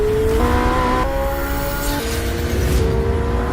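McLaren W1 flat-plane crank V8 revving hard, its pitch stepping up through quick gear changes in a loud, continuous high-revving scream with no talking.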